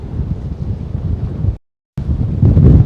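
Strong gusts roar and buffet the microphone beside rough, choppy water at a Manhattan pier on the Hudson waterfront, a loud continuous rumble that cuts out briefly and then returns even harder.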